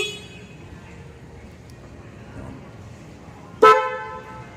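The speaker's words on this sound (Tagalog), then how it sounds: "Itong isa naman po ay sa busina." A single short honk of a Suzuki Raider 150 motorcycle horn sounds near the end, loud and close, over a quiet background hum.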